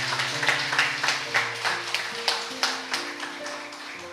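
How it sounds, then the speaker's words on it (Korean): Applause for two people during a Korean church service, a run of sharp claps repeating through the whole clip over a low sustained organ or keyboard tone. "두 분에게 우리 박수 한번 보내주시기 바랍니다"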